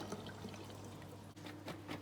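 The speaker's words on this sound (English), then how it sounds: "I'm going to drain off the water." Water from cooked broccoli and carrots pours and trickles steadily for about two seconds as it drains, with a faint low hum underneath.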